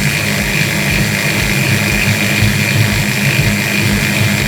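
A continuous high-pitched whirring of a small rotary tool with a drill bit smoothing jewelry metal lettering runs steadily throughout, loud and close, with no talking.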